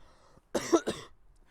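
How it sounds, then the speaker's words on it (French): A single short cough, close and fairly loud, made of two quick bursts with quiet before and after. "je tousse"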